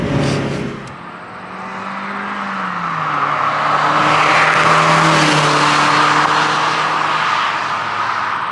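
A car sweeps past at speed on a road, engine note rising as it approaches and holding a loud, broad rush of engine and tire noise as it goes by, with no talk.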